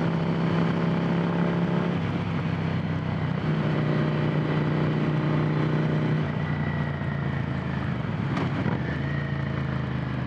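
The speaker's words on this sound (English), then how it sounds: "doing some engine braking here. Little 797 twin taking its way down nicely." Ducati Monster 797 twin-cylinder engine braking while riding, a steady engine note that drops in pitch as the bike slows, under wind noise, moderately loud with no talk.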